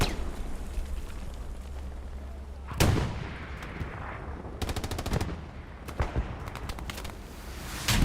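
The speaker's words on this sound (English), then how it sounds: "Long range rocket! No, it's a little bit short." Long-range rocket artillery fire in the WWII shooter Hell Let Loose: a sudden loud blast and rumble followed by a series of sharp explosive cracks and bursts, with distant gunfire scattered across a continuous battlefield din.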